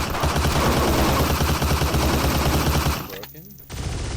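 Rapid pistol fire in the video game Pixel Gun World, a dense run of loud shots for about three seconds, then a brief lull before more game sounds resume; a voice talks faintly underneath.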